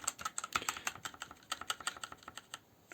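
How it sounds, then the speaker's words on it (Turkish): Fingers type quickly on a Rampage KB-RMW23 Scout wireless mechanical gaming keyboard with red switches, producing a soft, close stream of light clacking keystrokes in an uneven rhythm, faint and heard alone without talk. "ilk kez mekanik klavye deneyimi yaşıyorum şu an. Şöyle sesini göstereyim."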